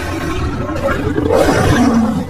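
A saber-toothed tiger in a film lets out a loud, close, sustained roar lasting a couple of seconds, deep and rough with a rising snarl near the end.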